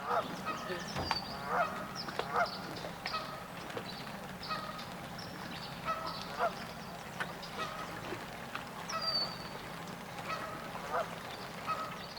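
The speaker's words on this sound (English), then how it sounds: "But you'll hear the geese from the right." Geese honking outdoors near the St Lawrence River and 1000 Islands after rain, a busy flock calling repeatedly from mid-distance in stereo, with steady low background noise.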